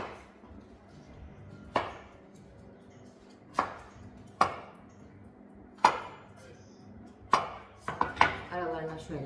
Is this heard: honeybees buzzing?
no